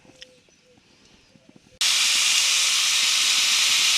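Lunch searing on a barbecue grill: after a quiet stretch with faint clinks, a loud sudden broadband sizzle erupts and holds steady, close and intense.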